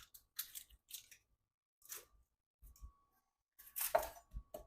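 An onion being chopped with a knife, short separate crunchy cuts and taps on a board in small irregular bursts with silent gaps, the last burst louder and denser.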